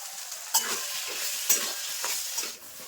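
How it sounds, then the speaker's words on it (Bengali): A spice mixture for cauliflower chops is stirred in a pan, with a soft, continuous fry hiss and a few brisk spatula scrapes and clinks, close and without voices. "তো দেখো আমি অনেকক্ষণ ধরে একটু নেড়ে নিয়েছি"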